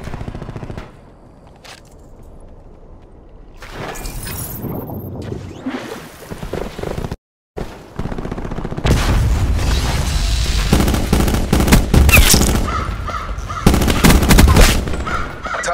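Rapid automatic gunfire from an M8A1-style rifle in Black Ops 2, loud sustained bursts with booming impacts and brief gaps, filling most of the clip.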